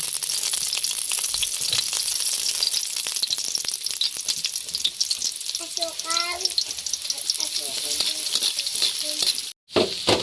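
Onion and garlic sautéing in hot oil in a pan, a loud, steady close sizzle and crackle running throughout with brief stirring scrapes.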